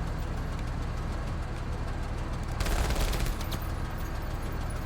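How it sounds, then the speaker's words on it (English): In the Menace video game, a steady wash of rapid SMG gunfire and battle noise runs throughout, with a denser, louder burst of shots in the middle and no speech. "I want to use the SMG."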